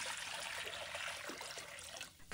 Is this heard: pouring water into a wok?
yes